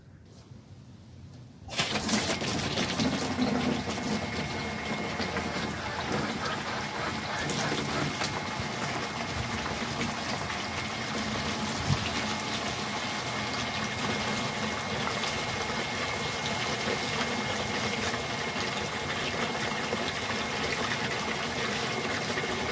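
Water gushes from a faucet fed by a 12V water pump at a house: near silence for about two seconds, then a sudden loud, steady rush of flowing water that continues unbroken to the end.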